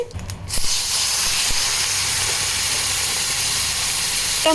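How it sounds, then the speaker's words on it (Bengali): Bay leaves, dried red chilli and white cumin frying in mustard oil: a short clatter, then a loud, even hiss and spit of hot oil that holds steady to the end, no voices. "সামান্য সর্ষের তেল দিয়ে দিলাম, দিয়ে দিচ্ছি 2টো তেজপাতা, শুকনো লঙ্কা দিয়ে দিলাম, আর দিয়ে দিলাম জিরে, সাদা জিরে।"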